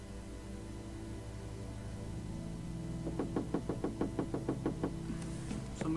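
Rapid knocking on a door in the adventure game Gabriel Knight 2: The Beast Within, about a dozen quick, evenly spaced raps over a low steady ambient hum.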